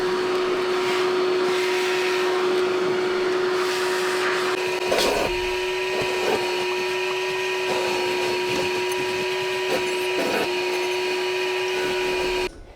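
A Karcher WD1 cordless handheld wet and dry vacuum runs steadily for the whole stretch, a constant motor whine with a high tonal hum, briefly dipping as it moves, close and loud.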